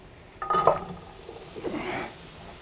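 Onions cook in a pan over a hot burner to caramelize, with a burst of sizzling and a clatter of pan or utensil, then a softer sizzle as they are stirred, no voices.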